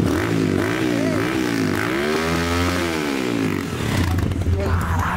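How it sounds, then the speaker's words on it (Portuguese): A 125cc mini motorcycle engine fires up for the first time, sputtering and revving unevenly with rising and falling pitch, loud and close, before settling into a rough idle. "Primeira ligada da moto."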